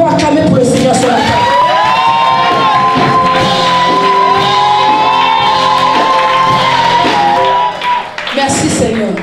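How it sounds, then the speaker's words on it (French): A church congregation cheers, shouts and whoops together to acclaim the Lord, a loud sustained crowd roar with high voices rising above it and a brief dip near the end. "Est-ce que nous pouvons acclamer pour le Seigneur ce matin?"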